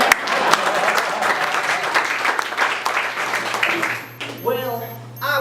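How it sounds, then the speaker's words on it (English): Audience applause at a live cat-themed stage show, a dense steady wash of clapping that fades after about four seconds, leaving faint voices and a low hum. "I think we're just gonna clap."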